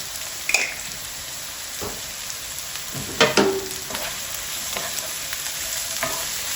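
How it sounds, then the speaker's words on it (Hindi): Cumin and nigella seeds fry in hot oil with a continuous crackling sizzle, punctuated by a few sharp spoon taps and scrapes against the pan. "गरम होने के बाद ना आप 3 मिनट इनको फ्राई करें"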